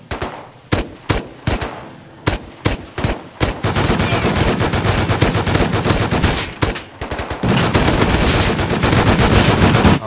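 Video game weapon fire: several separated bursts of loud gunshots, then sustained rapid automatic fire with brief gaps, close and dense, without talk.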